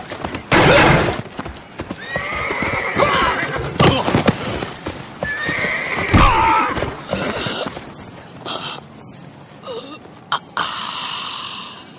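Horse in a Western audio drama whinnies loudly and repeatedly alongside clip-clopping hooves and snorts, the neighs rising and falling over steady hoofbeats, with some voice-like sounds mixed in the busy scene.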